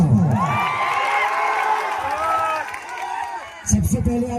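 An election rally crowd at a campaign stage show in Sitamarhi, with a loose mass of cheering, whoops and shouting voices that rises, fades, then swells into a fresh burst of noise at the end.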